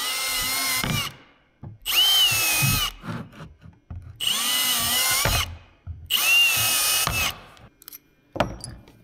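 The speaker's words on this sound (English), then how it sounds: "we don't drill these holes all the way through" A power drill whines through wood in three separate bursts of about a second each, with short pauses and clunks of handling between them.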